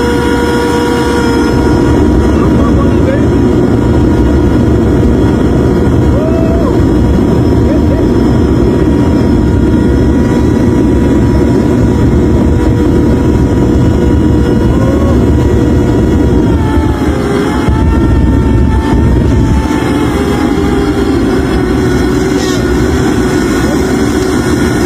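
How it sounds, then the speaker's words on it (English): A homemade aircraft engine run up to full capacity gives a loud, steady, continuous roar with a sustained whining tone that holds for the whole stretch, with no clear break. "Now watch and see when he first tested the full capacity and what happened."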